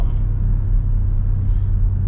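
Low, steady exhaust rumble from an Audi RS7 fitted with downpipes, making a light pull under gentle acceleration without launching, loud and close throughout with no break.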